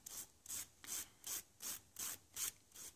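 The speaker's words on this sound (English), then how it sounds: "we're gonna take our finger and at a 90 degree angle, we're gonna start filing in a downward motion" A nail file scrapes off the edge of a Jamberry nail art wrap in eight quick, even downward strokes, each a crisp close rasp with short pauses between.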